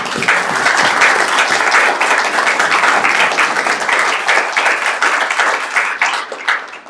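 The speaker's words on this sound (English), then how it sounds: "So John, I'm going to give you a round of applause." A round of applause at a Board of Public Works public meeting, steady and dense clapping from many hands filling the room for about seven seconds, close and loud, tapering slightly at the end.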